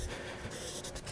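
Writing on a board during a lecture on simple undecidable problems: a short burst of scratchy marking strokes, close and steady, with a few quick strokes near the end.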